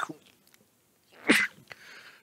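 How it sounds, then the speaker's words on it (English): One loud sneeze bursts out near the middle after a quiet stretch, close to the microphone, with a faint breath or sound at the start. "Sorry about sneezing on camera,"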